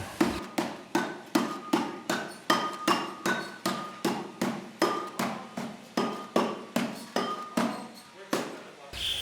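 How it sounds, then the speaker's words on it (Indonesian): An iron hammer pounds a metal gamelan piece to widen it, delivering a long run of steady, evenly spaced ringing blows, loud and close. "Setelah dihaluskan dilebarkan lagi pakai palu besi."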